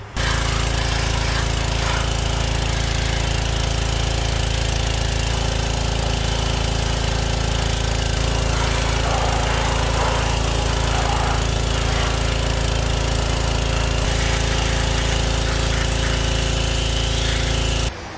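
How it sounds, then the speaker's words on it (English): Continuous loud pressure washer blasting an engine block, a constant pump drone with hissing spray that barely changes throughout, close to the source. "I'm just gonna go over it with the pressure washer."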